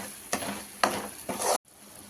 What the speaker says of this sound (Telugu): 1 స్పూన్ అల్లం వెల్లుల్లి పేస్ట్ వేసుకొని ఫ్రై చేసుకోవాలి. ఇది కూడా మంచిగా మసాలాలో ఫ్రై చేసేసుకోవాలండి.